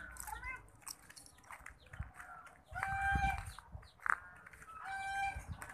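Chickens in a coop cluck and call in short, bright bursts at close range, some calls rising like a crow, while people talk in the background and scuffling noises come and go.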